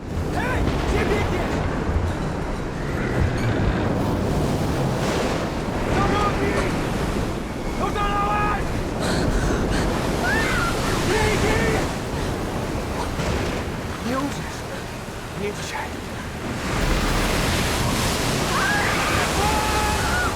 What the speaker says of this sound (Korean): 링이를 구하려던 올레크가 파도에 쓸려 사망해버리고 말죠